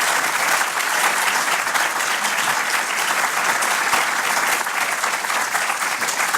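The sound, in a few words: audience applause for the speakers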